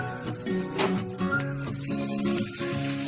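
Chopped broad beans hit a hot pan and crackle into a busy, steady sizzle, with a faint tonal background underneath and no voices.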